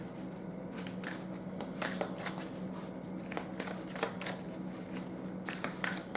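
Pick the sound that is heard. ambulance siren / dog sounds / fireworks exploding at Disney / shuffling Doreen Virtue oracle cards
shuffling Doreen Virtue oracle cards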